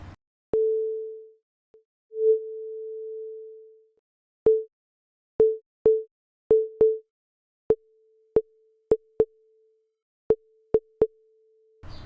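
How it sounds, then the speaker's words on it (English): A pure sine tone plays repeatedly at one pitch with changing envelopes: long swells and sustains, then short plucky blips in quick, irregular succession. "I'm going to use the same sine wave, but I'm going to use several different ADSR envelopes"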